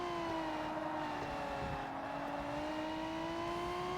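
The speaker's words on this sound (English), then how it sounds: "I keep over-revving it." Car engine in the racing game Forza Motorsport held at high, over-revving pitch, a sustained whining drone that dips slightly and climbs again, heard alone without talk.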